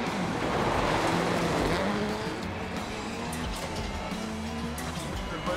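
A rally car in Dirt Rally 2.0 on an Argentina gravel stage, with a steady loud engine roar and gritty tyre and gravel rumble throughout, revs shifting slightly, and no talk over it.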